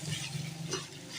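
Chicken with capsicum and carrot fries in a pan for a chicken pizza topping, a faint, low, steady sizzle with a soft stir scraping through briefly.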